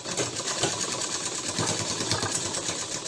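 A sewing machine running steadily while a 1.25-inch folded waistband is stitched on a dhoti shalwar, a continuous close mechanical whirr with a fast, even needle pulse and no talk.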